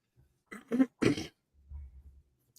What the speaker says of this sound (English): all of a sudden I got to clear my throat every 3 seconds